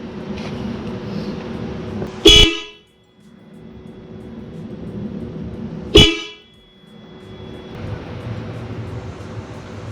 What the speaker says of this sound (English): But we do have both purple horns. So let's test it out real quick.